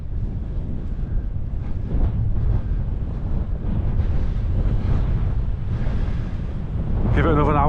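Strong wind buffets the microphone on a small island as the incoming tide's waves wash and surge nearby, a continuous loud roar throughout, with a brief flapping rustle near the end.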